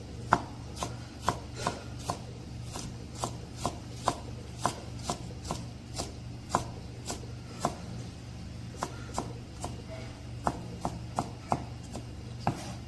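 A knife finely slicing scallions on a cutting board, a long run of crisp, evenly spaced chops at a quick steady pace, close up and alone.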